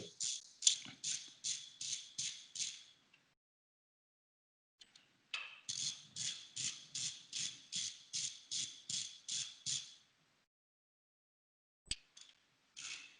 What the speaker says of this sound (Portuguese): vamos fazer a retirada da tampa do comutador.